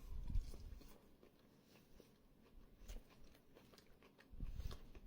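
Crispy dragon shrimp being bitten and chewed close up, with crunchy bites at the start and end and softer, quieter chewing between them.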